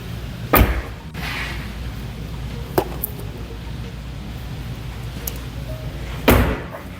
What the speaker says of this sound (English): That was a dramatic door slam.